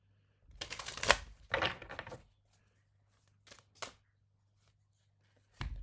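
Cards from a Breath of Life Tarot Oracle deck are handled and drawn: a few crisp shuffling rustles and snaps close by, then a pause, then a couple of short flicks and a final riffle.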